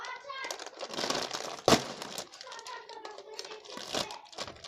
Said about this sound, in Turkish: Abi ben çitozu açıyorum